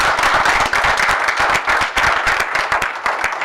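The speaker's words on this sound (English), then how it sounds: "one more round of applause" Audience applause at a borough council meeting, steady dense clapping from a crowd that fills the room with no talk over it.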